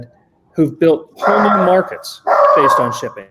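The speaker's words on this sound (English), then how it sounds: "We've got dogs in the background." Dogs bark and yip in short bursts in the background while a person talks over them.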